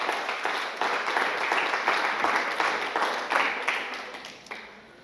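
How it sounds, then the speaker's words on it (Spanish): A church congregation clapping together in rhythm, a loud, even pulse of hand claps continuing throughout with little variation. "Vamos a darle palmas al Señor de la gloria."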